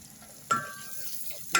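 Red chili powder, turmeric, coriander-cumin powder and salt frying in oil for a black chickpea curry. A soft, low sizzle is broken by two brief, sharper bursts as the spoon stirs, with no talk.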